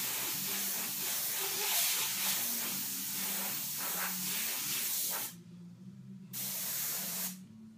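An airbrush sprays base coat paint onto a helmet in a close, steady hiss that cuts off briefly twice as the trigger is released, then resumes.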